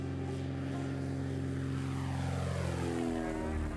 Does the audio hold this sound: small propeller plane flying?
yes